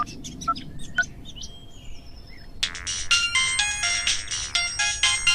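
A mobile phone rings loudly with a bright electronic ringtone for an incoming call, its repeating melody starting midway after faint bird chirps.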